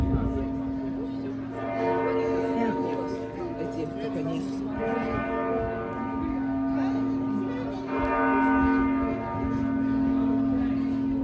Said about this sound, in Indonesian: baru lonceng gerejanya bunyi